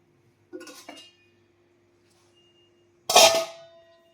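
A metal wok (kadai) is set onto a home stove while veg chowmein is being made, giving two light metallic clinks followed by a louder clattering clang, with silence in between.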